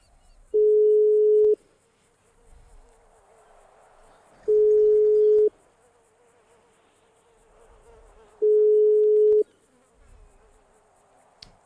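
Unanswered phone call ringing out: three evenly spaced, steady ring tones about four seconds apart, each lasting roughly a second, over a quiet background with faint room noise between them.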